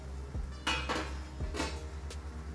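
A metal lid comes off a steamer pot of dhokla with a few sharp clanks and clinks against the rim, close and distinct over a low background hum.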